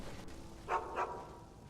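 A dog in the video game Skyrim gives two short, close barks in quick succession over a quiet background.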